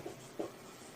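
Pen or chalk writing a short note during a Class XII maths lesson on partial fractions, two brief quiet scratching strokes in a near-silent room.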